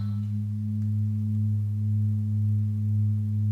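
A steady, low electronic hum of pure sine wave oscillator tones holds without a break, smooth and unchanging throughout.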